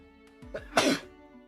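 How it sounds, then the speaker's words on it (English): One person sneezes once, a short sharp burst after a brief intake of breath, close to the microphone and alone. "I'm gonna sneeze."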